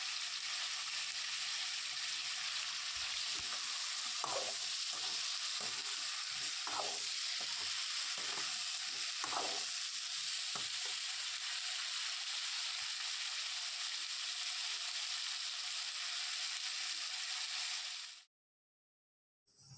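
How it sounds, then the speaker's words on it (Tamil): Brinjal with tomato and onion sautés in a pan with a steady, close sizzle, while soft scraping stirs come through intermittently before the sound cuts off abruptly near the end. "இப்போ வந்து நல்லா வந்து கத்திரிக்காவை வதக்கிக்க போகிறேன்."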